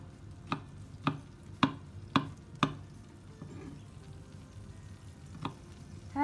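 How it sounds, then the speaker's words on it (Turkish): Okra being chopped with a knife on a board: five evenly spaced sharp cuts in quick rhythm, then a pause and one more cut, close and fairly quiet. "Şöyle sapını kesiyorum. Sert kısmını alıyorum."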